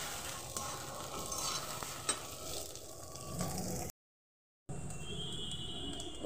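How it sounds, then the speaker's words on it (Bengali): Fried potatoes and egg are stirred together in a sizzling frying pan for egg chowmein. There is a continuous close sizzle with brisk scraping stir strokes, broken by a brief dropout to silence partway through. "এবার আলু ভাজাটার সঙ্গে মিক্স করে দেবো।"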